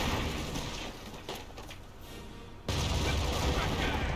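Game gunfire from an MG42 machine gun in Company of Heroes, a dense continuous crackle of shots under battle noise that jumps louder in the final second and a half.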